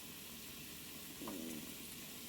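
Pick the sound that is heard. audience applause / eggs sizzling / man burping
eggs sizzling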